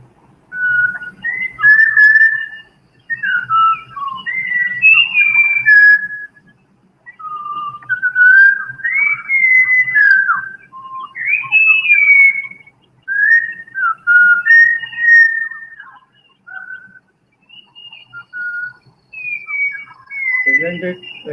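A bird repeats clear, human-like whistled phrases, rising and falling melodically with short pauses between, loud and close, alone without talk.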